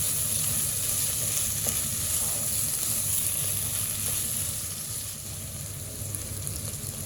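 Bitter gourd and keema fry in a pan with garam masala as it gets a stir. A loud, continuous sizzle dips slightly partway through, with faint occasional stirring taps.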